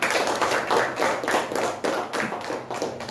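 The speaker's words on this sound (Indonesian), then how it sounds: "Tepuk tangan dulu untuk kelompok 1." Classroom applause for a student group, a short burst of many hands clapping together at close range, dense and even, with no speech over it.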